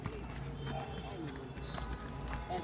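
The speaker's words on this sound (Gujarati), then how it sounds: "ઘોડી હાલવામાં ફૂલ છે પાંત્રીસ ચાલી હાલે છે સ્પીડ ઘોડીની બહુ જાજી છે" A mare's hooves clip-clop in a quick, steady rhythm at moderate distance, with voices talking faintly underneath.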